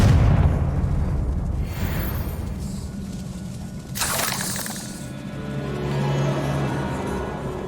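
The Confringo explosion spell cast in Hogwarts Legacy during a troll fight, a loud blast bursting through a dense rumbling game soundscape, with crackling debris trailing off afterward.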